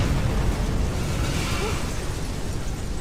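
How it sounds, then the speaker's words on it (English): A video-game explosion rolls out as a dense, sustained rumbling blast lasting about three seconds, loud and even throughout with no talking over it. "Big explosion over here!"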